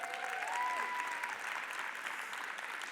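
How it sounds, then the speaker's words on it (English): An audience gives a continuous round of clapping at a disability-themed talk, dense and even throughout at moderate volume, with a faint tonal whistle near the start. "give yourselves a big round of applause"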